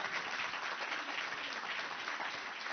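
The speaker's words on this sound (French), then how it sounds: "Vous pouvez les applaudir tous les deux." Sustained audience applause fills a conference hall at the end of a talk on a Mediterranean cooperation programme, steady and dense throughout with no voices over it.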